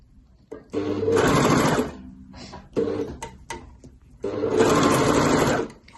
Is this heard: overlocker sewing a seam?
yes